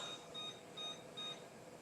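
A kitchen timer gives three short, thin, high beeps at an even pace, faint against low background hiss, with no talk.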